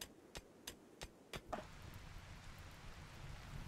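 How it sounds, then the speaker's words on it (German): Steady soft rain hiss in RimWorld Alpha 16, low and continuous, with a few sharp clicks early on before the patter settles into an even wash. "Aber es regnet glücklicherweise."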